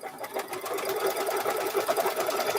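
A sewing machine stitches hoodie fabric in a fast, steady, even whirring run close by, with no voices.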